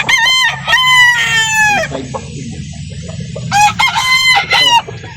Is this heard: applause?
no